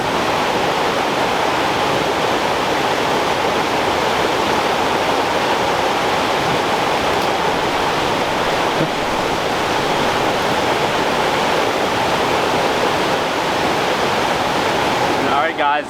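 A small creek in the Kern River area rushes loudly and steadily, a dense, unbroken roar of turbulent water close by.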